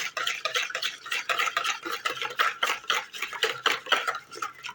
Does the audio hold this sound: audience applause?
no